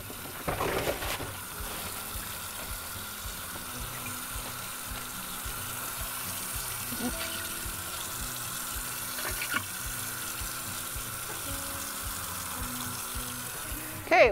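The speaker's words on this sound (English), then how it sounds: "We need to fill up our sink with hot soapy water" A kitchen sink filling with hot soapy water from the tap, a steady close rush of running water that lasts throughout, with a few light clinks near the end.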